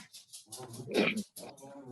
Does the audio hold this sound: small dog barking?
yes